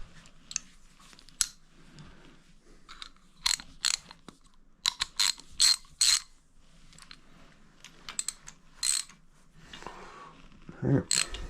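Ratchet tightens a part on a custom motorbike build, with bursts of quick metallic clicks in short separate runs, close and crisp over a faint background.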